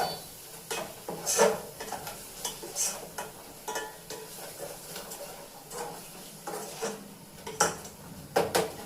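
Spices for egg biryani being fried and stirred in a pan, giving a soft sizzle broken by repeated scraping and clinking of a spoon against metal, with irregular bursts throughout.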